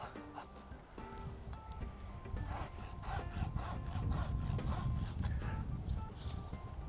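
Hand saw cutting through a small tree branch during a thinning cut, a close, steady rasping back-and-forth that grows louder and more even as the blade bites deeper, with faint background noise.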